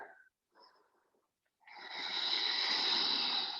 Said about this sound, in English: One more nice deep breath